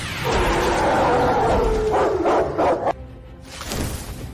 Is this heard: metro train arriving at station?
no